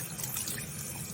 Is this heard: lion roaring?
no